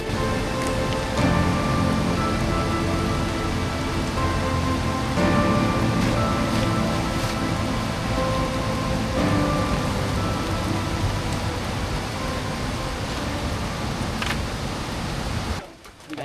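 Rain falls steadily on a mountain trail, a loud, dense hiss of drops on leaves and ground that continues unbroken before cutting off abruptly at the end.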